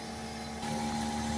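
Citroën C4 1.6 BlueHDi diesel idling during a forced DPF regeneration: a steady, close mechanical hum with a low drone that steps up slightly in level partway through as the revs rise.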